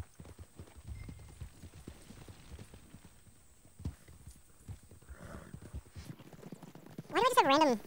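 A horse's hooves clip-clop in a video game, a soft, uneven patter of steps running through most of the stretch, followed by a loud, wavering neigh near the end.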